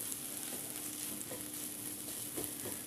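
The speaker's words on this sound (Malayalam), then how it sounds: "ഇനി ഇത് ലോ ഫ്ലെയിമിലിട്ട് ഇതിൻ്റെ പച്ചമണം പോകുന്നിടം വരെ ഒന്ന് വഴറ്റി കൊടുക്കണം" Ground spices and garam masala sautéing on low flame in a pan for egg curry, a steady close frying sizzle with faint stirring scrapes running throughout.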